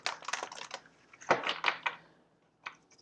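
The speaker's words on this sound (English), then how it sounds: "one more shuffle." Tarot cards shuffled close up, with rapid papery riffles and taps in quick uneven bursts, a brief pause, then a final flick.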